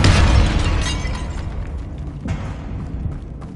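A Confringo fire spell goes off in Hogwarts Legacy inside a tomb, a loud, close blast with a crackling burst at the start that decays into a rumbling tail, followed by a second, smaller thud.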